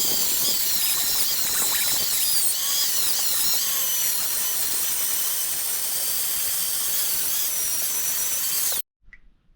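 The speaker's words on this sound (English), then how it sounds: "We're gonna go ahead and take the red Scotch-Brite wheel now, clean up the mating surface" A red Scotch-Brite abrasive wheel on a power tool grinds at a differential cover's mating surface, a loud continuous whirring hiss with slight squeals that runs for about nine seconds and then stops abruptly.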